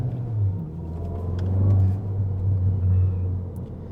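A Mk7.5 Golf GTI with its exhaust backbox deleted, a deep boomy rumble from close by while driving, swelling and settling over a few seconds with no talking.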